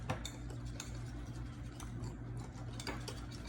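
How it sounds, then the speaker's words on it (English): Queso for enchiladas is stirred in a dish with a utensil, giving faint, quick clinks and scrapes in an irregular rhythm against a quiet kitchen background. "I'm gonna give this a stir."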